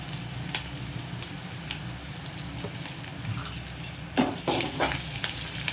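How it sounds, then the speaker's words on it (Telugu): Onion pieces and asafoetida fry in a pan with a busy crackling sizzle close by, with a few louder sputters and scrapes near the end. "ఈ ఎర్రగడ్డ ముక్కలు ఇవన్నీ కొంచెం లైట్గా వేగాక మనం అయితే కొంచెం ఇంగ వేసుకుందాం"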